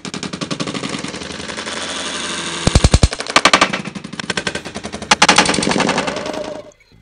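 Beyblade Burst spinning tops, including a full-metal die-cast alloy top, clash in a stadium battle, making a continuous loud whirring scrape broken by sharp bursts of rapid metallic hits and bangs before abruptly stopping.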